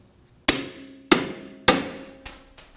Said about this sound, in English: Using a dead blow hammer, we'll knock the sway bar bolt out.